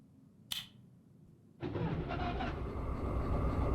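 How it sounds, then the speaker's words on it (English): A diesel locomotive engine starts up in the Derail Valley train game, a short click followed after a pause by a loud, steady rumbling idle that continues to the end. "Can we turn on the locomotive while being in a different one?"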